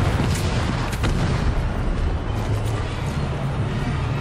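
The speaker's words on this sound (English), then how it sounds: "Cardinal, I just took out a helicopter." Helicopter explosion in the video game Shadow of the Tomb Raider: a dense, sustained low rumble of blast and fire lasting several seconds, loud and steady with no clear separate impacts.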